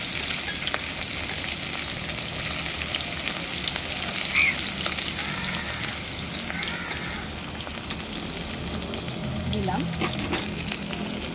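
Chopped onions and bay leaves frying in hot oil give a steady, close sizzle that crackles on without pause, with a brief spoken word.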